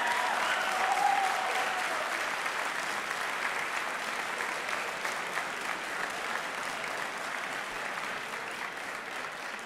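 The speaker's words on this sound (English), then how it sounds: "how about a round of applause for the Drew men's and women's swimming team" An audience at the 2017 Drew University sports awards applauds the men's and women's swimming team, dense and sustained clapping that holds steady for about ten seconds before slowly thinning.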